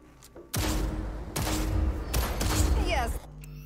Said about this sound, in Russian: Сейчас будем проходить курс учебной стрельбы.